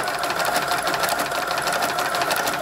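A sewing machine runs steadily, stitching the mitered corner of a lace tablecloth border; the fast, even whirr is loud and close, with no pauses and nobody talking.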